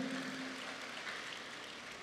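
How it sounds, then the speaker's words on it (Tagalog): A church congregation applauding in a steady, dense wash of many hands clapping together, fairly even in loudness and heard from within the crowd, with no distinct voices standing out. "Sige, mas malakas pang palakpak sa Panginoon."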